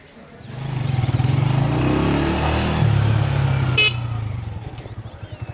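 A motorcycle engine idles and revs nearby with a steady low throbbing rumble that swells and then fades, and a brief sharp horn-like blip cuts in midway.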